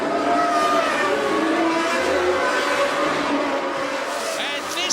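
Formula One race cars roar off the grid at the start of a French Grand Prix, a dense, continuous engine din that stays loud throughout, with a commentator talking over it.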